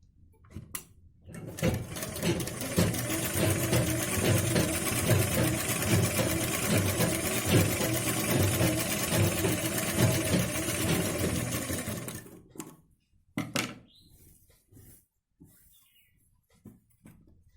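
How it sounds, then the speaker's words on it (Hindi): A sewing machine runs in one steady, continuous stretch of stitching on a lace-trimmed blouse, then stops, leaving a few soft handling clicks and rustles in a quiet room. "इसी तरीके से हम पूरी सिलाई लगा लेते हैं।"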